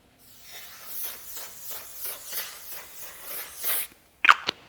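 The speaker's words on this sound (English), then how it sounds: "I'm gonna use the One Size Until Dawn setting spray" One Size Until Dawn makeup setting spray is misted in a rapid series of about eight short hissing pumps close by, followed by a couple of sharp clicks.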